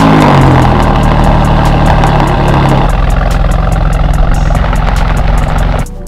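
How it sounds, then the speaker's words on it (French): An Alfa Romeo Stelvio Quadrifoglio with its 510 hp Ferrari engine cold-starts with a loud roar that drops after about three seconds into a steady, rumbling idle. "On va vous faire écouter le démarrage à froid."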